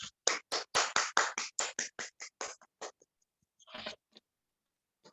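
A small audience in a quiet room claps to welcome a speaker: a run of distinct, closely spaced hand claps that thins out and fades, with a few faint stray claps at the end.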